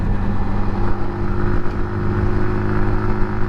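A Sinnis Outlaw motorcycle rides along Suffolk country lanes, its engine a steady close drone under continuous wind rush, with no change in pace and no talking.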